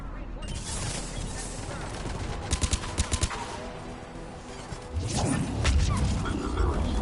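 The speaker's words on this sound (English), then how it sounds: "Taking enemy fire." Enemy gunfire crackles in a sci-fi shooter game, with a quick burst of sharp cracks in the middle and heavier rumbling fire and blasts toward the end, set against busy background game noise.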